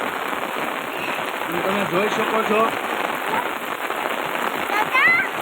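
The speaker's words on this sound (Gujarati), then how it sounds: "જોરદાર વરસાદ અંધાર્યો." Heavy monsoon rain pours down steadily in Rajula in late August, a dense, close, continuous hiss of drops on surfaces throughout, with a person talking over it.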